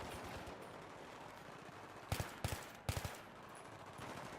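Assault rifle fire in the Battlefield 3 game on PC arrives in a few short, sharp bursts over a low rumbling battlefield background, loud against a steady ambient bed.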